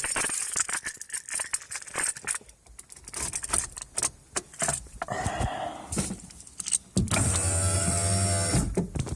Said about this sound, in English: Let's actually open the window all the way down.